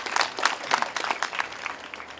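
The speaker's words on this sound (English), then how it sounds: "we'll give her a round of applause anyway" Audience applause at a school graduation ceremony, a steady wash of clapping from a crowd lasting a couple of seconds with no talking over it.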